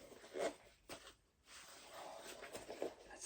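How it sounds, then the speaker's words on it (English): A hidden waterproof zipper on a custom backpack is run open and shut, giving a few short raspy zipping strokes, close but quiet, with faint background noise and no talking. "the hidden zip, like that just disappears. Waterproof zipper."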